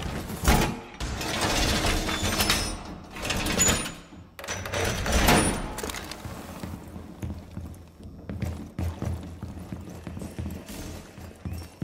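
Wall reinforcement in Rainbow Six Siege, a series of loud mechanical clanks and ratcheting metal impacts in bursts with short pauses, fading to quieter clatter toward the end, no talk.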